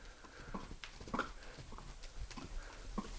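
Hoofbeats of a gaited horse slowing into a rack, an even four-beat clip-clop rhythm, moderately faint and steady over a few seconds.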